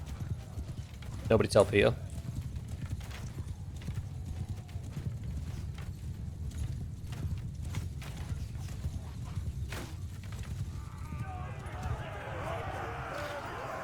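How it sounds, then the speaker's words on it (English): A horse clip-clops at a gallop in the medieval combat game Mount & Blade II: Bannerlord, steady hoofbeats under a voice, with a brief louder burst near the start and a noisy swell toward the end. "That's a horse."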